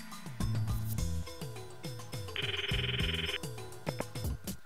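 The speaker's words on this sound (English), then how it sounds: "Now, let's call Karisu" A phone rings in the Steins;Gate video game, sounding as a bright, buzzy electronic tone for about a second over repeating background music, with no talk.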